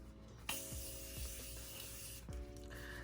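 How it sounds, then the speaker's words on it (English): A single Morphe setting spray hisses in a long, steady mist across a face, starting abruptly and holding for about two seconds before cutting off, close and soft. "So I took my Morphe spray and I sprayed that all over my face."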